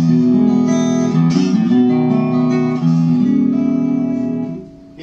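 An acoustic guitar rings out through a microphone in a masterclass setting, sustained chords and melodic notes played closely and loudly with rich overtones, fading at the end, no voices.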